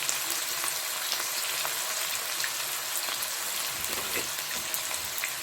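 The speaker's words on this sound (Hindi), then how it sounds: "1 कप हमने ऑयल का लिया है। उसके बाद छोटे 2 ऑनियन डालेंगे, डाल दिए।" Two small onions frying in a cup of hot oil give a steady, close, crackling sizzle that runs unbroken throughout, with faint pops and no voices.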